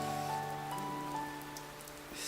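Rain falling in the video game Shining Resonance Refrain, a steady wash of patter blended with sustained musical tones in the background.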